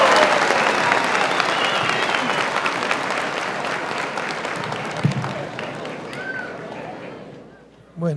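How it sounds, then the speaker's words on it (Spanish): Crowd applauding the President of the Republic of Ecuador at a gathering with recyclers on Recycler's Day, sustained dense clapping that slowly fades toward the end, with voices mixed in. "Un fuerte aplauso para él."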